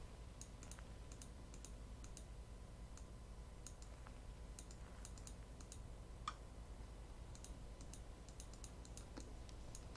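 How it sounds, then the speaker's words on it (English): A computer mouse clicking during a puzzle game, faint sharp clicks in uneven bursts and clusters over a quiet steady background hum, no talk. "I'm clicking my mouse and I don't know what's happening."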